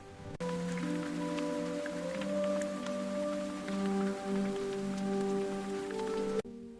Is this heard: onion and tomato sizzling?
no